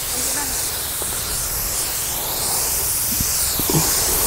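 A power sprayer hisses steadily as it sprays chili plants against thrips and aphids, a loud continuous spray with faint handling clicks.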